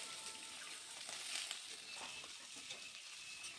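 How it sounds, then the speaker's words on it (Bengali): Potatoes and bitter gourd fry in oil in a pan, giving a soft, steady sizzling hiss that stays faint and even throughout. "আলু আর উচ্ছেকে ভালোভাবে ভেজে নিচ্ছি"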